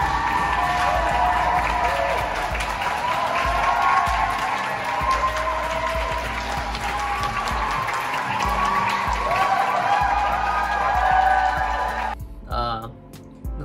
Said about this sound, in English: they just started applauding.